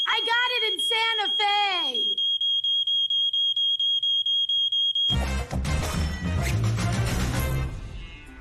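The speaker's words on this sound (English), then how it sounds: "It's a defective detector." A defective smoke detector sounds its alarm, a steady loud high beep pulsing rapidly for about three seconds after voices speak, then cuts off into loud, dense background noise.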